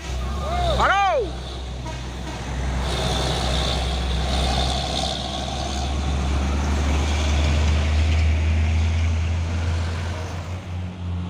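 A Hino 500 truck maneuvering, its engine rumbling low and steady while a sharp rising-falling whistle sounds early on and hissing air bursts follow, with someone talking over the running engine.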